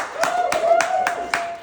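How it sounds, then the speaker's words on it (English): At an artist talk, a few separate hand claps ring out at a quick, even pace, close and fairly loud, over a faint sustained tone. "Again, round of applause for Raimundo Rubio."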